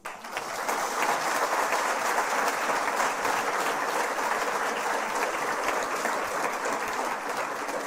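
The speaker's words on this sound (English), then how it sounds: "Let's continue to give her a big round of applause." Sustained applause from an audience at a women's symposium, steady and full from start to finish with no voices over it.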